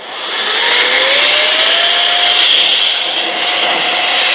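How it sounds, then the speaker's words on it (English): An electric blower attachment blows air, a loud steady high-pitched whirring rush that spins up in the first half second, then holds constant, with a faint whine drifting in pitch. "So we're going to switch to the blower for that."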